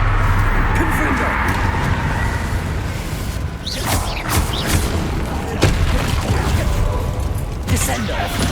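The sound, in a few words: Confringo fire-blast spell exploding in Hogwarts Legacy video game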